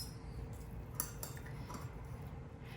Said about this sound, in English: I'm just gonna cut into this here. I wanna get a little bit of the egg, some of the ham.